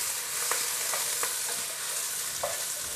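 Onion and bok choy sizzle in a pan for a Thai fish stew, a steady bright hiss with a few soft clicks as a utensil stirs, close up and without voices.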